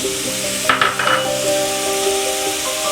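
Cooked chicken tipped into a pan for a chicken omelette and stirred, giving a brief clatter of utensil scrapes and a soft sizzle, with steady tonal background sound running throughout.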